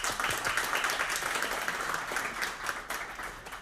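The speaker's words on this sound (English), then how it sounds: "So please give her a round of applause." An audience at a graduation ceremony applauds, a full, close burst of many hands clapping that holds steady and then eases slightly toward the end.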